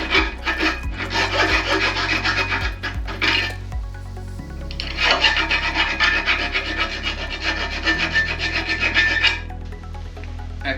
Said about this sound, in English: when you painted something, it clogs all the holes up and it's not quite big enough for the bolts, so I just need to clean those out